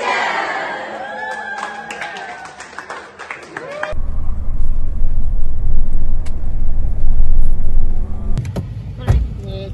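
Inside a car riding to the office, a steady low engine and road rumble fills the cabin while people talk over it, after an earlier stretch of voices.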